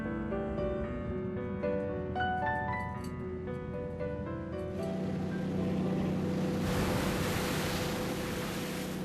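Rough winter sea waves surging around a fishing boat, a heavy steady wash over low engine drone, with musical tones at first before the broad roar of surf builds.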